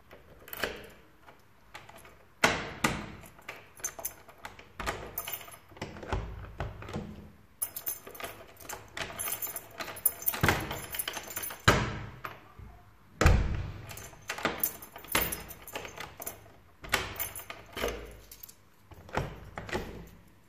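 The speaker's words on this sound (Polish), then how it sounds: "Wkładkę bębenkową możemy otworzyć, zamknąć za pomocą zwykłego klucza lub na przykład klucza nastawnego." A cylinder lock insert handled and turned with an ordinary key, giving a series of close metallic clicks, jangles and clunks that come in irregular bursts across the whole stretch, with no voices.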